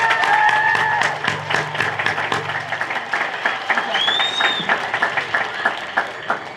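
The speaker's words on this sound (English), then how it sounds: "Let's give another round of applause for our row 3." Scattered audience clapping at an 8th grade recognition ceremony, steady through the room with a few voices and murmurs mixed in, moderately loud and fairly close.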